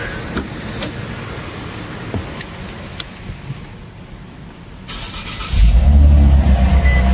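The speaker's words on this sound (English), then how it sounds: "we're about to start it up and see what it sounds like" An Infiniti Q50 fitted with a PLM axle-back exhaust cranks and fires up after a stretch of quiet clicks and shuffling, settling into a loud, deep, rumbling idle close by.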